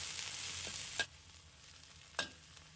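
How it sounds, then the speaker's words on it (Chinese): Scallion, ginger, garlic, mushrooms and red chili stir-fry in a little oil, producing a soft, steady sizzling hiss broken by two sharp spatula scrapes against the pan. "把它炒出香味"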